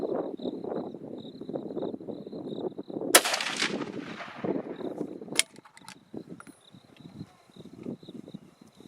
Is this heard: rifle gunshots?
yes